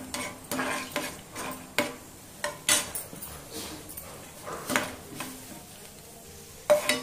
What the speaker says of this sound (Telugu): ఫస్ట్ వేరుశనగ గుళ్ళు వేయించేసుకుని